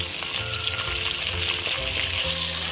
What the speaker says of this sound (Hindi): अभी इसको हम थोड़ी देर तक फ्राई करेंगे ताकि ये थोड़ी नरम भी हो जाए मिर्ची तेल में फ्राई होते हुए